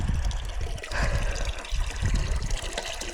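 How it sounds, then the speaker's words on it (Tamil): Water poured by hand from a container onto a farm plant, a steady splashing trickle that runs continuously and fairly close, with no talking. "இப்படி ஊற்றுவோம், ஏன்னா தண்ணி மேலே கொண்டு வர முடியாது."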